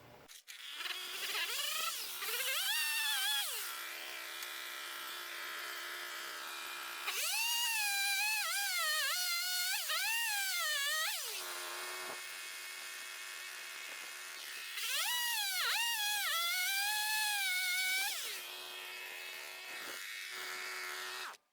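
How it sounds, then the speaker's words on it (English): A power saw cuts through a piece of cherry wood for bowl blanks, its high whine dropping into a lower steady drone as it bites into the wood in three long passes, with brief idle pauses between cuts. "what I'm going to do is I'm going to cut this off"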